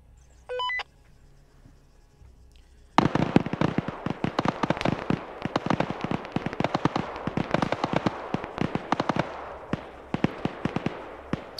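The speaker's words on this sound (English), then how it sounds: "Why is there shooting?" Video game gunfire, a long run of sharp rapid shots and bursts starting after a quiet opening with a few beeps, loud and continuous with uneven rhythm.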